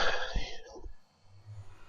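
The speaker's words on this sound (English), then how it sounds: "Sorry about the constant coughing and stuff." A person with a sore throat coughs a couple of times close to the microphone at the start, followed by quiet low background hum.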